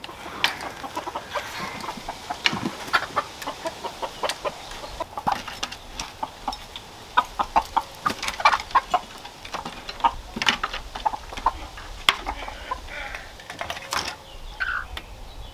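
Chickens clucking and squawking in short, irregular bursts, fairly close, with scratching and rustling in between and no talking.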